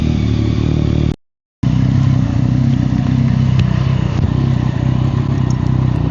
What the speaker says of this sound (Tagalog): naka-andar yung motor